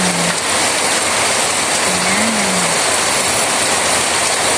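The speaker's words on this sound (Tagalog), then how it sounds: "So, sobrang lakas ng ulan." Heavy rain pours steadily in a dense, continuous hiss, with a faint low hum briefly rising in the background.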